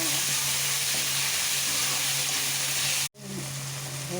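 Ginger, garlic, onion, tomato, coriander leaves and green chili sizzle steadily in a hot pan as they are stirred, a constant close frying hiss broken by a brief cut before it resumes.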